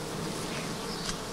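Honeybees buzz densely around an open beehive during an inspection by a beekeeper in the Donetsk region, a loud, close, continuous hum with no voices.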